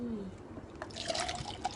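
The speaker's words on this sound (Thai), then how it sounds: "เราเทน้ำเย็นก่อน" Cold water poured into a glass for mixing a fibre drink gives a soft, close trickle and splash lasting about a second, faint against background noise.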